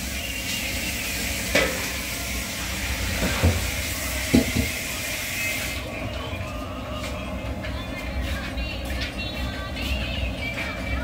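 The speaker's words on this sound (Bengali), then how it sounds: "কড়াইতে দেওয়া হচ্ছে ফ্রাইড তেল" Hot fried oil poured into a wok while making Szechuan sauce gives a steady broadband sizzle that runs throughout, with a few sharp clinks and knocks early on and the hiss easing after the first half.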